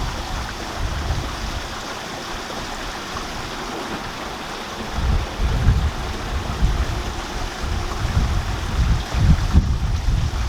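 Grey water from an RV tank dumps out in a steady rushing, gurgling flow that swells louder and more turbulent partway through, with no talk.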